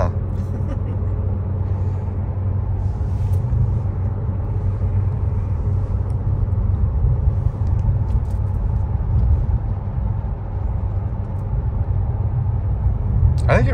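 A 2010 Maserati Quattroporte on a test drive, heard as a steady, loud, low rumble of engine and road noise from inside the cabin throughout.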